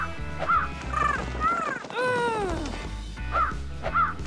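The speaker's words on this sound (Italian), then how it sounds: "I corvi vogliono mangiare le zucche." Crows caw loudly and near in a series of harsh, repeated calls, with a longer drawn-out cry in the middle.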